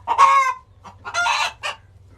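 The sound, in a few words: chicken hens clucking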